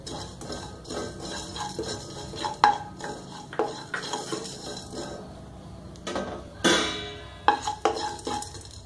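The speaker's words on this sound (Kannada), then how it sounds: "ಜೀರಾ ಎಲ್ಲ ಲೋ ಫ್ಲೇಮಲ್ಲೇ ಫ್ರೈ ಮಾಡ್ಕೊಳ್ತಾ ಇದ್ದೀನಿ" Cumin seeds fry on a low flame in a pan for tomato rasam, a soft sizzle under repeated scraping and clinking strokes of a metal spoon stirring them, close and fairly quiet.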